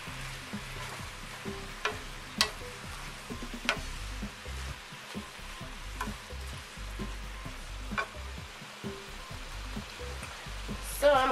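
Spinach with mushrooms and eggs sizzles steadily in a pan, a soft continuous frying crackle with scattered pops and occasional stirring clinks, heard close with no talk over it.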